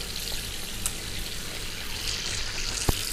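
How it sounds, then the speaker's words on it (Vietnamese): A tap runs in a sink, giving a steady, even hiss of flowing water close by with a faint clink near the end, and no voices. "Rồi đừng có xả nước nhiều quá."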